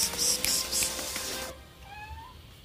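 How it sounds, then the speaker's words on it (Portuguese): Cats meowing at home as a refrigerator door is opened for mortadella: a dense rustling, clattering burst, then after it stops a couple of thin, rising meows, fairly close and alone. "Quer ver vocês começarem a miar?"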